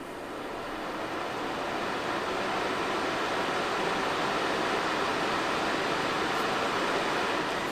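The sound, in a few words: Levoit Core 300 air purifier fan running on medium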